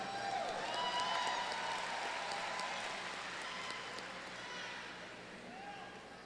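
A commencement audience at Thomas Nelson Community College applauds, a dense steady patter of many hands that holds fairly loud and then slowly tapers off, with no voices on top.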